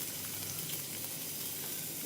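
Sliced onions fry in oil for a noodle masala, giving a steady, even hiss of sizzling that is soft and close, with no talk.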